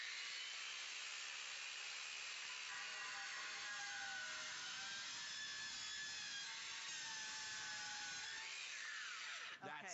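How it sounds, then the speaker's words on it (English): DualTools CS450 saw plunge cutting through steel diamond plate, a faint, steady high-pitched grinding whine that holds for the whole stretch and cuts off sharply at the end. "I'm going to do a plunge cut through this serious piece of steel"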